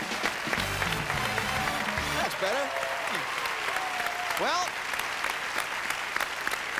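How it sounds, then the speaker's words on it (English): Applause from a Wheel of Fortune studio audience rolls on throughout, with a person speaking over the clapping partway through. "A round of applause."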